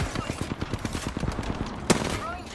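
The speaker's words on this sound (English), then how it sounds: "They're shooting at me." Rapid automatic gunfire from Apex Legends crackles in quick repeated bursts, a dense rattling stream of shots with one sharper crack near the end, mixed with game sound and no clear talk.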